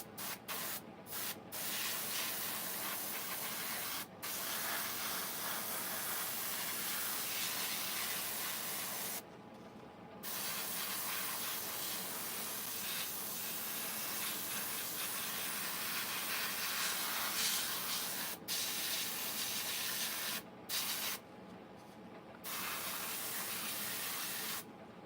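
An airbrush sprays paint onto chainsaw carvings in a continuous close hiss that runs in long bursts, broken by a few short pauses and quick taps.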